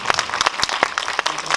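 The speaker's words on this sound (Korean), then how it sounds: "큰 박수 한번 주세요." Audience applause at a documentary film screening and discussion in a cinema, a short burst of scattered, distinct claps at close to moderate distance, uneven and somewhat sparse.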